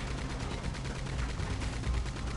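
Rapid gunfire in Red Dead Redemption 2, a dense run of repeated shots blending into a steady crackling barrage with no talk over it.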